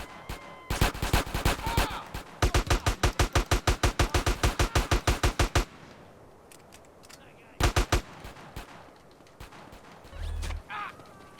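Two long bursts of rapid automatic gunfire from GTA Online, loud, evenly spaced shots in quick succession, then a pause and a short final burst of a few shots.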